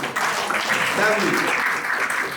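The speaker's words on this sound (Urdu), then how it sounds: "تالی ہونی چاہیے" A church congregation applauding after a sermon, a burst of clapping that swells and stays dense for a couple of seconds, with voices mixed in.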